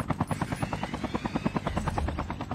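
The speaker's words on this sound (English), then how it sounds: "We have a chopper. Get on that chopper." A helicopter in the Call of Duty Mobile video game battle royale thumps with fast, steady rotor beats, loud and close, filling the whole stretch with no talking over it.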